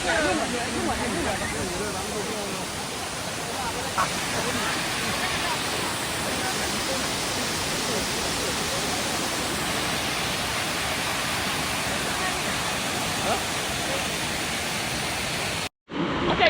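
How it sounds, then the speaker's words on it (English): A huge waterfall in Laos roars as a steady, loud, broadband rush of falling water that stays constant and close throughout, ending with a brief cut. "This is the main waterfall here. It's ginormous."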